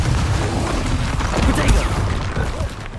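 Confringo spell blasts from the Hogwarts Legacy video game, a dense continuous rumble of booming, crackling explosions that stays loud and busy for three seconds.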